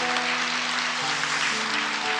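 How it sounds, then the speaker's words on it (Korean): A church congregation gives sustained, dense applause for a chamber ensemble at an Easter service, a steady wash of clapping that fills the whole stretch with faint tones beneath. "우리 챔버팀을 위해 우리 뜨거운 격려의 박수 한번 부탁하겠습니다"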